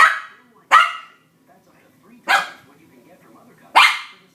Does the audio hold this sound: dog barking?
yes